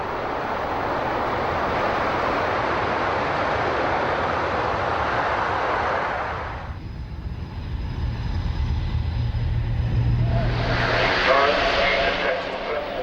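A military transport aircraft at the Farnborough Airshow 2002 roars loud and broad for several seconds, then fades to a lower rumble before a new engine whine swells up near the end.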